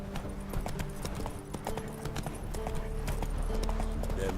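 Roach, a horse in The Witcher 3, galloping with a fast, steady rhythm of clip-clopping hooves, close and moderately loud, with faint ambient game sound behind and no talk.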